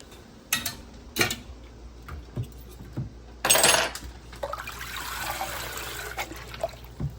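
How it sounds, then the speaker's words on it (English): Steamed broccoli is dropped into cold well water, with clattering pot knocks, a loud splashing burst and trickling water in a quiet kitchen. "they have to take them out and get them into cold water"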